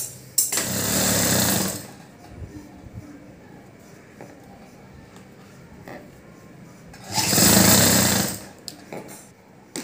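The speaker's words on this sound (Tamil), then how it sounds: "இப்படியே வச்சு ஒரு தையல் போட்டுடலாம்." A sewing machine stitches blouse lining in two separate bursts of about a second and a half each, a close, buzzing mechanical whir with quiet handling of fabric in between.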